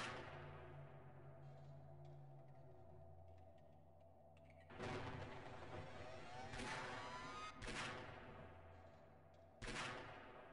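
Gunfire in the video game Half-Life comes as several loud bursts separated by a few seconds, rising over a steady low drone with no talking.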